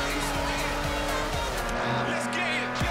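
A VW Corrado drives in the racing game Forza Horizon, its engine droning steadily with tyre noise and pitch shifts as it accelerates, under a voice talking over the game sound.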